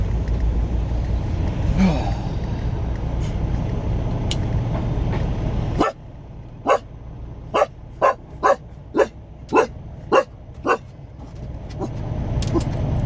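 A dog barks about eight times in a quick, evenly spaced series, heard from inside a semi truck hauling a paper load through Gouverneur, New York, after a stretch of low engine and road rumble.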